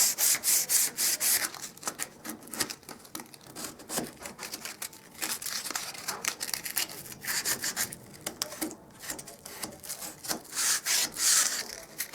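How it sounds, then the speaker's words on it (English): Worn sandpaper is rubbed lightly over a patched crack in a dormer bathroom, producing close, rhythmic scratchy strokes in uneven bursts with brief pauses. "Some worn sandpaper, I'll just lightly rub that."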